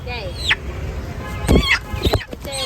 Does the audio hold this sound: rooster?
yes